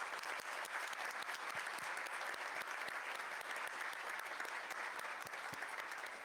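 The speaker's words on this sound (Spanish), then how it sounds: "para ella pido un aplauso" An audience at a university lecture on gender equality claps steadily for a guest speaker, a dense, even patter of many hands that holds at a constant moderate level throughout, with no voices over it.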